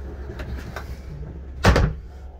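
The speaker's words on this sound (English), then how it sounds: "Undo the lock." Small bathroom door in a 2021 Airstream Atlas RV: faint clicks of the lock being undone, then a single louder thump as the full door swings open.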